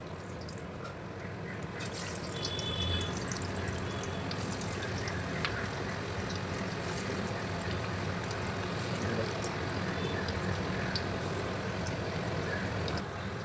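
Cabbage pakoras fry in hot oil in a wok, giving a steady, close bubbling hiss that runs the whole time, with light crackles and faint clinks on top.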